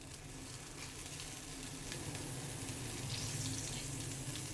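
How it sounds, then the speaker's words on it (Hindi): Butter melting in a pan for a cheese sauce, giving a steady, soft sizzle and hiss that holds at a constant level throughout, with no voices. "तो मक्खन मेल्ट हो गया।"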